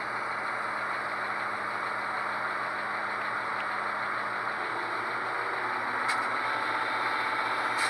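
A model genset diesel locomotive engine on a Soundtraxx Tsunami 2 sound decoder idles in notch 2 with a steady, even drone that holds unchanged from start to finish, with no talking.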